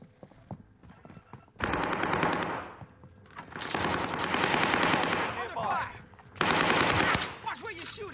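Sustained bursts of automatic gunfire in a live-streamed video game, rapid shots in dense stretches broken by brief pauses, loud and close, with players talking over it.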